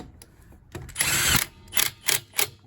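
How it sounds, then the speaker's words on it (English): An impact wrench hammers on a lug nut: one longer rattling burst followed by three short, sharp bursts in quick succession, close and loud. "that's the sound an impact makes when it's hammering on the lug nut"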